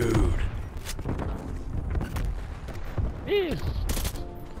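Rapid gunfire in the Call of Duty Black Ops Cold War video game, with dense bursts of shots and booming impacts layered over busy game effects.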